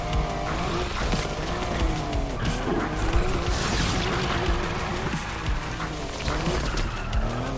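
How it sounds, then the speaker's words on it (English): Car drifting in the Need for Speed Unbound video game, with a steady loud engine roar near the rev limiter and sustained tire squeal and skidding that stay continuous and dense throughout. "I started pulsing it to get out of the drift."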